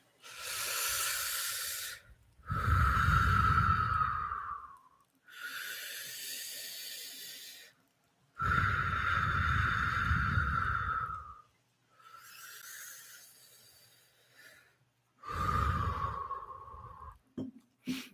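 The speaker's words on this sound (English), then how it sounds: "take 3 deep breaths to center yourself" Three slow, deep breaths taken close to the microphone, each a long airy inhale followed by a longer hissing exhale, separated by short pauses with nothing else heard.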